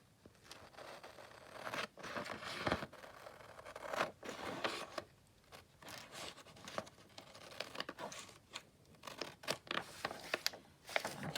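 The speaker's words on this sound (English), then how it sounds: "Here's my big scissors." Big scissors cut through DigiKit paper for junk journal signatures, giving a run of crisp snips and rustling paper scrapes at close range, uneven and fairly quiet.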